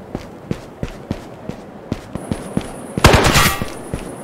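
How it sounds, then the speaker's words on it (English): Gunfire in the VR shooter Ghosts of Tabor, a steady series of sharp single shots at regular intervals ending in a louder rapid burst with a brief hiss, no talking. "Whoa, shooting at you"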